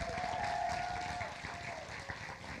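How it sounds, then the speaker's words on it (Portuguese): Audience applause in an auditorium at the KCAP 2024 event, a moderate wash of clapping from a crowd heard at some distance, with a brief sustained tone over it early on and fading slightly toward the end. "Palmas!"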